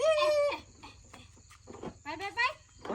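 Chicken clucks and calls ring out in short bursts amid casual talk nearby, with a steady low engine or motor hum running underneath throughout.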